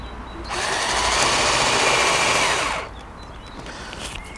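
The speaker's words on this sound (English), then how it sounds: "I'm just going to drill straight through there" A long bit in a Makita cordless drill bores straight through, its steady high whine rising abruptly, holding for about two seconds, then cutting off, loud and close.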